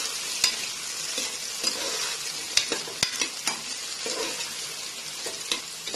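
Three large chopped onions sauté in a pan for mutton biryani, giving a steady bright sizzle with repeated scraping stirs and spoon clicks, close and continuous.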